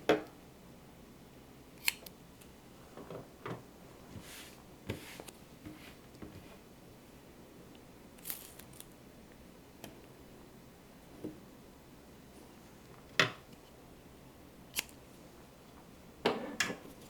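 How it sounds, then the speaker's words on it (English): Scissors make sparse, faint snips and clicks as they cut apart zipper placket fabric pieces, with quiet pauses between the cuts. "I'm just going to cut these apart."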